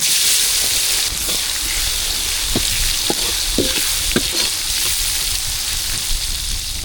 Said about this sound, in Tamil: மிளகாய் நல்லா வதக்கிட்டு அது கூட வெங்காயம் சேர்த்துக்கலாம்